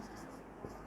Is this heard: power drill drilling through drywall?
no